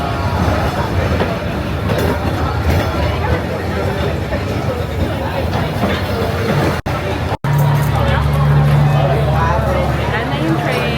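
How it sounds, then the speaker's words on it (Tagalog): A train rolls slowly through Hanoi's narrow Train Street, a continuous rumble and clatter heard close by under a crowd's chatter, with a low horn-like tone near the end. "So, dumaan na nga yung train."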